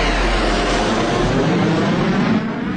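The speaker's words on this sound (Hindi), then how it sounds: "ये देखिए इंडियन फाइटर जेट हो रही है" An Indian fighter jet flies overhead, giving a loud, steady broadband roar with a deep low rumble that holds for about three seconds before easing slightly near the end.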